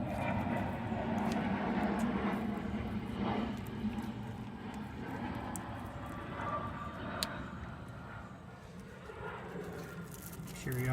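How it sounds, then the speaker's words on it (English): A jet engine rumbles broadly overhead, a steady low roar that lingers throughout with faint clinks and shuffling nearby. "you got a little jet aircraft going overhead"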